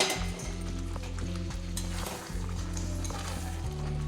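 Raw jackfruit and potatoes frying in spiced oil, a steady sizzle with a spatula stirring and scraping against the pan in an irregular rhythm, close and alone.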